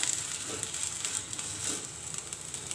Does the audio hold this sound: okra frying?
yes